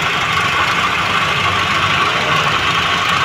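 A 1998 Nissan Sentra engine idles in a workshop after a camshaft replacement, giving a steady, even, close-up hum with a smooth, unbroken rhythm and no voices over it.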